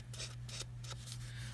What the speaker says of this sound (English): And I'll show you with the scissors on the other side.